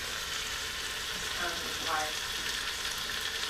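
Olive oil squirted into a hot cooking pan already holding oil, giving a steady frying sizzle with a brief brighter crackle midway.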